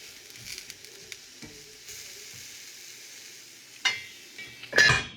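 Sliced garlic sizzling in about two tablespoons of olive oil in a pan, a steady soft frying hiss with a few brief clinks of pan or utensil and a louder crackling burst near the end.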